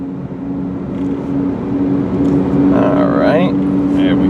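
A 2005 Dodge Neon SXT pulls up to speed with a steady, moderately loud engine drone and road noise inside the cabin, rising slightly as it goes, while someone talks over it.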